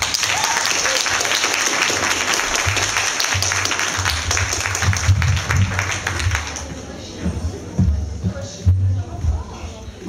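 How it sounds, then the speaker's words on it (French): Applause from a convention panel audience welcoming a guest, dense sustained clapping that fills the room for several seconds before thinning out, with crowd murmur and a voice emerging underneath toward the end. "Je crois qu'on peut vraiment l'applaudir."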